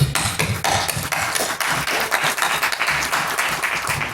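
Audience applause at a church gathering welcoming first-time visitors, a dense patter of clapping hands with some sharper individual claps, fairly close and steady throughout.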